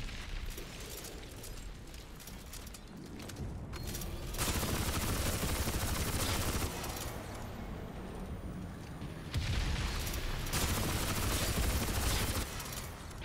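Reaper cannon fire in Crysis 3 roars in dense, sustained bursts with heavy booming impacts, loud and continuous with two stronger surges midway, no voices over it.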